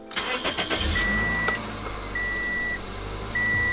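A Toyota Corolla's engine cranks and catches, settling into a steady idle close by, while a dashboard chime beeps at regular intervals.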